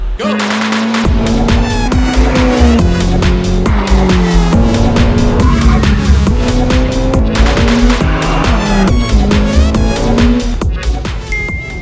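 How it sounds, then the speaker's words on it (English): A Ferrari F8 drives hard with a loud, close engine whose pitch climbs repeatedly and drops at each gear change, over a continuous roar and a hint of tire squeal. "And finally, the Ferrari F8."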